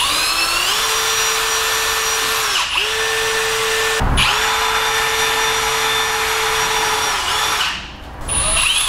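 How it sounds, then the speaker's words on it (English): Power drill boring rivet-nut holes in a car spoiler on a Roush Mustang, a loud steady whine running for several seconds with two brief pauses as the bit stops and restarts, no talk. "We're gonna go ahead and start drilling."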